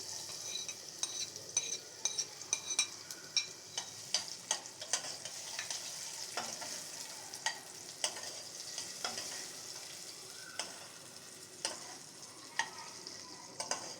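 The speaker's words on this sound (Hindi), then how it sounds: "इसके अंदर हम डालेंगे 1 अदद प्याज" Finely chopped medium onion frying in hot oil in a pan for chole, stirred steadily: a soft continuous sizzle with frequent light spoon scrapes and taps, close and fairly quiet, with no talking.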